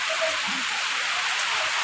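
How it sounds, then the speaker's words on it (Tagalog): Steady, even rain hiss fills the whole moment, a dense wash of drops with no breaks. "umuulan ngayon dito"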